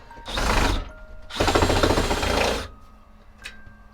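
Screws are driven out of an RV sink with a power screwdriver, giving two close, loud bursts of whirring motor and ratcheting, the second longer. A faint click follows in the quiet after.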